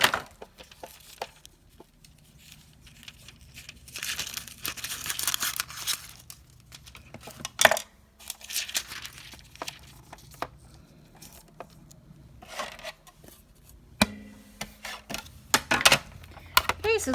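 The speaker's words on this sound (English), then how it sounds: "I am going to cut a piece of foil to go over the top of this" Thin metal foil crinkles and crackles as it is handled and cut, then is rolled through a Sizzix Big Shot die-cutting machine with pressure only, giving close, irregular rustles, taps and a few sharper clicks at moderate level.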